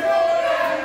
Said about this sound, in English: Ladies and gentlemen, the crowd is very vocal, just calling Jermaine Johnson a chicken.